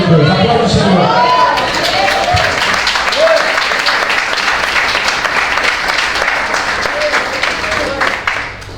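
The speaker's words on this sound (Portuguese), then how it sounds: "Aplauda o Senhor." A church congregation claps together during a sermon, with loud, sustained applause and a few voices rising over it before it thins out.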